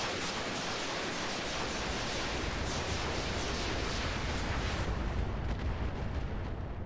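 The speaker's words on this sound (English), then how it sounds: "That's a lot of missiles." Dense barrage of missile fire in the BattleTech mod Roguetech, a loud continuous roar of overlapping launches and blasts that thins slightly near the end, with no talking.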